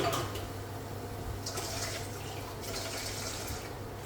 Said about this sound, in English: I will add water and cover